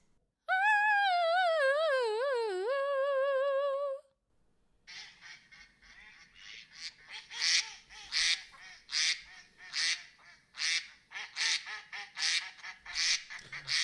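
A person imitating a duck with a quacking sound effect: a long nasal wavering call, then a rapid series of loud quack-like honks close to the microphone.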